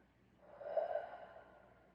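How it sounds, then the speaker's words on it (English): A single slow, deep breath during yoga practice, a soft airy rush that swells and fades over a couple of seconds, close and quiet with no talking. "3 full deep rounds of breath"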